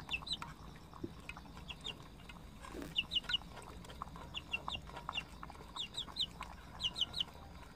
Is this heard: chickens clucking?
yes